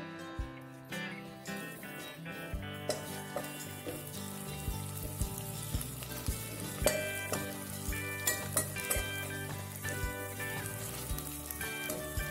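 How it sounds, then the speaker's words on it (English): Eel fish frying in a pan for a Manipuri dish, a dense crackling sizzle with popping spatters and occasional clinks, close and fairly loud, with no speech. "Now the eel fish and fry for a while."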